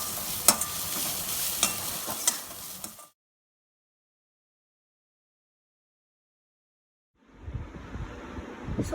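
Vegetables with beans and dal cook in a pan with soft sizzling and clicking stirring sounds, then drop into total silence for several seconds before the frying and stirring resume.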